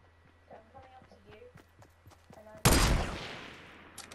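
A sudden loud burst of gunfire in the video game Fortnite erupts near the end, with a long ringing decay after quieter footstep-like ticks and background game noise.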